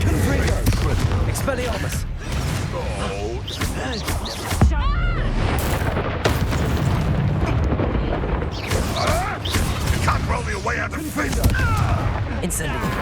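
Blasts of the Confringo fire spell in Hogwarts Legacy, mixed in with other spell bursts and booms during a fight, loud and frequent, with voices calling out over the din.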